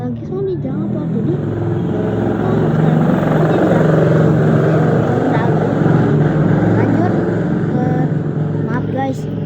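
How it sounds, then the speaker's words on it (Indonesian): Several motorbikes and other traffic pass close by on a street, a steady engine roar that swells and fades continuously under a voice talking throughout. "ada banyak motor di tempat aku"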